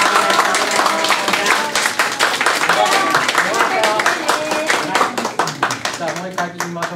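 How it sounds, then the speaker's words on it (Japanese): Loud audience applause for a children's band at a live show, dense steady clapping from a crowd that continues throughout and tapers slightly toward the end. "大きな拍手でもう一度よろしくお願いいたします。"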